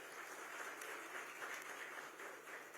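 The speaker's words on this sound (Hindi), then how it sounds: "एक बार जोरदार तालियां इस प्रयास के लिए बजाएं।" Faint, continuous applause from a large audience at a Mahakumbh 2025 conclave, a soft, even patter of many hands heard at low level.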